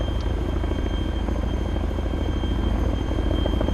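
A Chinook heavy-lift helicopter in ArmA 3 flies close by, its rotors giving a steady, loud, rumbling drone that holds constant throughout with no talk over it.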